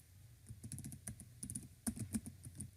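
Someone types an email address on a computer keyboard, a quick, irregular run of soft key clicks heard close but faint, with no voices.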